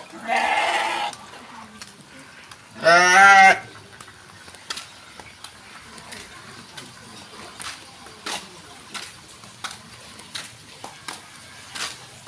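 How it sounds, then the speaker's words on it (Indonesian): Sheep in a pen let out two loud, close bleats near the start, followed by quieter rustling, scattered knocks and faint background noise. "Kandang domba."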